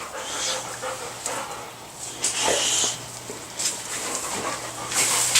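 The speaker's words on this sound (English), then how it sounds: "The dogs came in." Dogs pant and whimper nearby in a garden, quick breathy huffs in uneven bursts with an occasional soft yip, fairly close and alone without speech.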